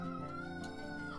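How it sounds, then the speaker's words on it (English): A rooster crows in the background with one drawn-out, harmonic call that is fairly faint and brief. "you get a lot of crowing in the background"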